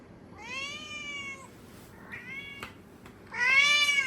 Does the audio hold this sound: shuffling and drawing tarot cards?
no